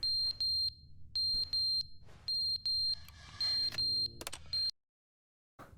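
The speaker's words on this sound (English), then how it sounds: "The fire alarm's going off." A fire alarm in The Stanley Parable sounds a series of shrill electronic beeps in irregular clusters, loud and alone, before cutting off into near silence.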